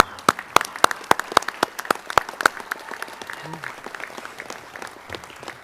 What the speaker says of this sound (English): one last round of applause for the team, please